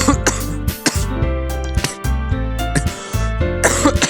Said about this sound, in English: I'm a friggin' coughing fit.